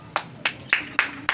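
Five sharp hand claps at a slow, uneven pace, fairly close, with a faint low hum beneath.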